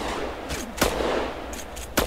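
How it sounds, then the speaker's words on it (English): Gunfire from a suspect inside a tunnel in a GTA roleplay video game: a few sharp, separate shots within about two seconds, loud and close and echoing, with no talk over them. "He's actively shooting."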